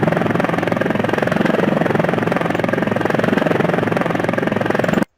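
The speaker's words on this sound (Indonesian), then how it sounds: "Ya, ini adalah suara helikopter ya." A hovering helicopter sound effect plays as a steady, loud, rapid rotor thump with a constant engine drone, unbroken for about five seconds before stopping abruptly.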